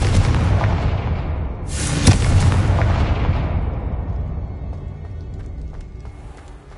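A Confringo fire spell bursts in Hogwarts Legacy with a loud booming explosion, followed by a second sharp blast and a long rumbling decay that fades out over several seconds.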